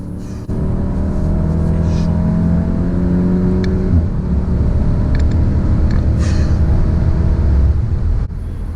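A Volkswagen Golf 7 R engine revs hard on the Nürburgring, a loud steady in-car drone with rising and falling engine tones that runs almost unbroken for several seconds.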